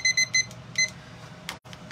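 A kitchen-style timer alarm sounds in short, bright beep bursts, three quick pulses then another pair, fairly close and clear over a quiet room in a quilting workspace, with no talking.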